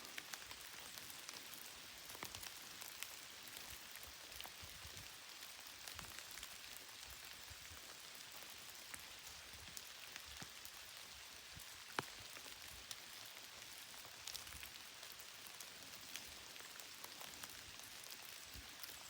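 Steady rain falls outdoors on a nature walk, a soft, even patter of drops with occasional sharper ticks, continuous and fairly faint.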